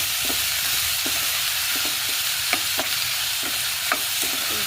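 Onions fry in oil in a pan with a constant close hiss, punctuated by regular scraping clicks as they are stirred; no voices.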